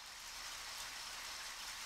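Rain falls steadily in Deadly Premonition, a faint, even hiss of dense drops without distinct impacts or voices.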